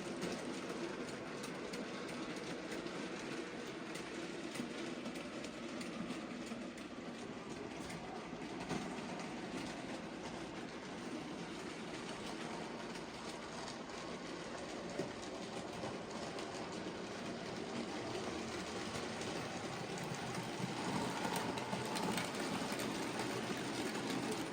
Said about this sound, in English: So that train obviously would be classed as an express freight.